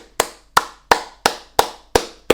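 A single person claps seven times in a slow, even rhythm, each clap crisp and close with quiet gaps between.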